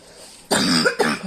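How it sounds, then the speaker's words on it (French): Two quick, close coughs, the first longer and the second a short follow-up, loud against a quiet room. "le matin, j'ai toujours cette petite toux"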